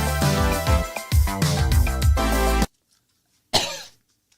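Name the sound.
coughing after smoking a fake cigarette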